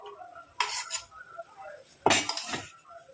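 Henna decoction paste being mixed with a spoon in a bowl, two bursts of metal scraping and clinking against the bowl's side, close and fairly quiet, with a faint murmur of background noise between them.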